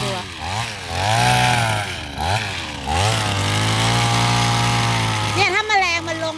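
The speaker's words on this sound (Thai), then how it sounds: "เหมือนเครื่องตัดหญ้านะสามพันกว่าบาท" Small gasoline cutting machine like a grass trimmer, new, revving in repeated rising and falling bursts, then holding a steady loud whine near a jasmine garden; a person talks over it.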